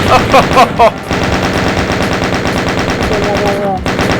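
Rapid sustained machine gun fire in the Doom video game during co-op play, a loud close continuous stream of shots lasting several seconds, with brief voice-like sounds at the start.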